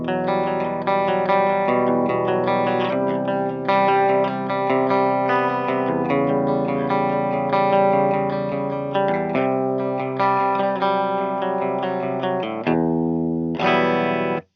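Electric guitar played through the clean channel of an Orange amp, with the TH30 and Rocker 30 the models compared, ringing out sustained chords and arpeggiated notes loud and close, steady for about fourteen seconds before ending abruptly, with no talk.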